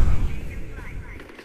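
Gunfire in Far Cry 4 makes a dense, loud rumble of shots and blasts that starts heavy and thins out over a second and a half. Voices blend into the noisy mix.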